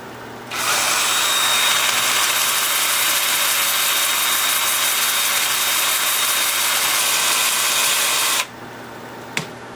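A wood lathe turns the inside of a wooden piece, giving a loud, steady broadband hiss and whir of the tool cutting that runs for about eight seconds and then cuts off abruptly.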